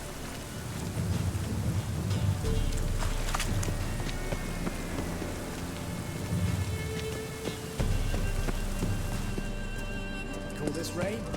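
Rain in the video game The Witcher 3: Wild Hunt, a steady hiss of falling rain with low rumbling and background game sounds and voices throughout.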